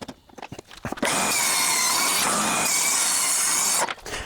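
A power saw rips strips from a leftover board for camper storage, a loud, sustained whine lasting nearly three seconds after a few light knocks, then cutting off abruptly.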